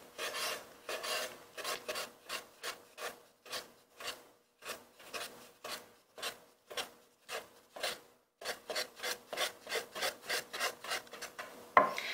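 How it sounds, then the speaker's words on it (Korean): A knife slices meat into thin strips on a cutting board with push-pull strokes, a quick regular series of short rasping cuts, close and fairly quiet, with a brief pause midway and no talking. "당기고 이런 식으로 칼질을 해주세요."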